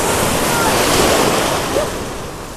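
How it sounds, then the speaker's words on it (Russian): Rough, choppy sea waves slosh and break against a small boat rocking at its mooring, a loud, continuous wash of surf and wind close to the hull. "Сегодня, как назло, очень неспокойное море. Лодку качает, волны большие."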